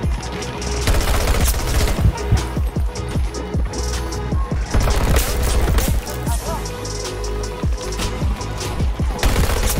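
Rapid bursts of MTAR-21 rifle fire in the Battlefield 2042 video game, loud and close, coming in repeated volleys over about ten seconds with heavy booming low end.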